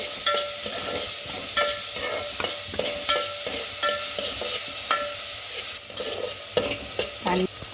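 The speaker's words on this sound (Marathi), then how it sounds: "कांदा परतला" Onions sizzle in hot oil while a spoon scrapes and stirs the pan in steady, repeated strokes; no talking.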